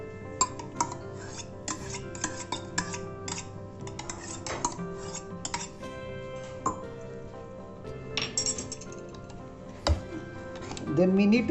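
Curd being stirred into uttapam batter with a utensil: steady scraping and rubbing against the bowl, broken by frequent light clinks and taps, with a sharper knock near the end.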